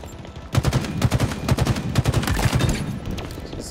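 A Halo Infinite battle rifle fires in rapid three-round bursts, several volleys in quick succession, loud and close with sharp cracks over a low rumble.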